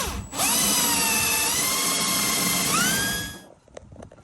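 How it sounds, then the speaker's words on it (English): A 1/4 inch hole drilled into a Twin Vee catamaran boat, a power drill whining steadily for about three seconds with pitch shifting as the bit bites, then stopping, close and loud with no talk. "Adam's drilling a 1/4 inch hole"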